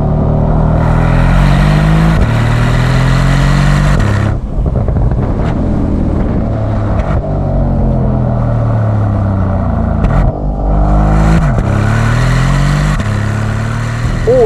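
Porsche Panamera Turbo engine revving hard in Sport Plus mode with the exhaust flaps open, climbing through several loud rising pulls with gear changes between them, plus wind rush and no talking.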